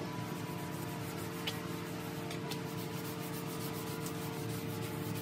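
Soft paste wax is rubbed onto a restored wooden farmhouse-style coffee table, a continuous, even scrubbing rasp held at a constant low level with faint hum beneath and no pauses.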